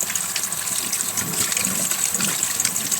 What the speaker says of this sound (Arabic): القلقاس بيتغسل مره واثنين وثلاثه بميه سخنه. هروح اغسله